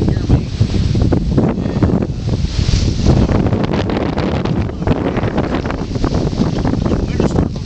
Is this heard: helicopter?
no